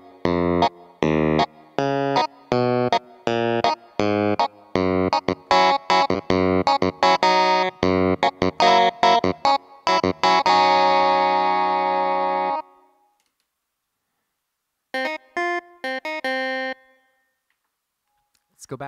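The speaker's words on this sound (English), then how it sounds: "Put on the first amp and put on some drive." Korg SV-1 keyboard played through an amp model with drive, giving a run of loud, gritty distorted notes that builds into a sustained chord, cuts off, then returns in a few short stabs.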